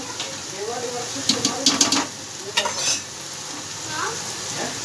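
Rajma (kidney beans) tipped into a hot pan sizzle steadily, with a short burst of spoon-against-pan stirring scrapes and clinks in the middle over the continuous frying hiss.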